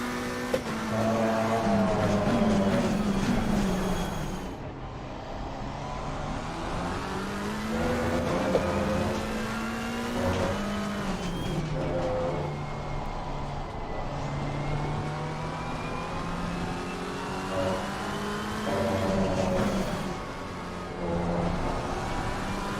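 Race cars circle the Barcelona circuit in a racing video game, a steady close engine drone with rising and falling pitch as the car accelerates and shifts, other cars buzzing nearby, with no talking.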